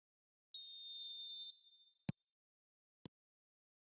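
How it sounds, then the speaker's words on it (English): A referee's whistle in the football video game eFootball blows once to start the second half, a clear shrill tone lasting about a second and then fading, followed by a few faint isolated clicks in near silence. "Whistle goes, and we start the second half."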